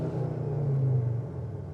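A 2025 Skoda Kodiaq RS plays its synthesized engine sound while revved in neutral, a low, steady droning rumble that swells slightly in the middle and holds close and even.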